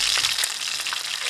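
Chicken pieces frying in oil in a pan give a steady, close, dense sizzle with crackling pops, continuous with no talk.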